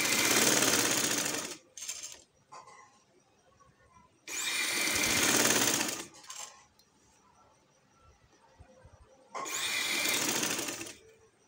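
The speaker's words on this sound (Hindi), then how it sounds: "ये देखें यहाँ पे हम इस तरह से सिलाई लगा देंगे" Sewing machine stitching a neck piece onto a shirt, running in three loud whirring bursts of a second or two, with quiet handling of fabric between them.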